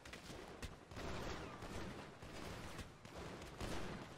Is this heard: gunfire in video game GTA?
yes